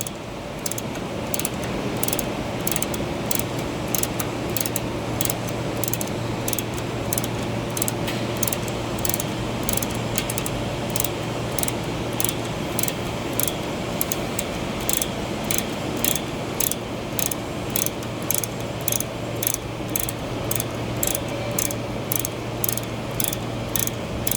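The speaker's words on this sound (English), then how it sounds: "After that, we have to tighten the nut." A nut on a liquid receiver valve is tightened with a ratcheting tool, giving a long, even run of sharp metallic clicks in a steady rhythm, close and clear, no talking.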